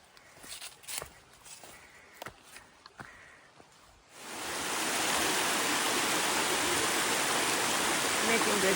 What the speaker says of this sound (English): Little creek crossings this morning.